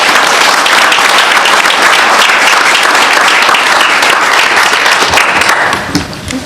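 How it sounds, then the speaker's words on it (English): A city council meeting room fills with loud, dense applause that holds strong for several seconds before thinning out toward the end. "One more round of applause to all of them."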